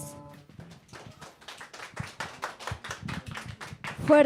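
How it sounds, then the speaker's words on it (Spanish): Applause on a radio program, a run of rapid hand claps that builds in loudness, with a voice speaking over the start and a brief musical tone near the end. "Fuertes aplausos."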